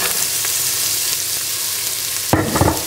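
Onion, garlic, red pepper and carrots fry in a pan with a steady, soft sizzle, and a louder clatter of stirring near the end.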